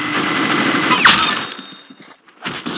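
A minigun fires in a rapid, loud burst in the Roblox game Arsenal, then trails off into quieter game sounds and a final short shot.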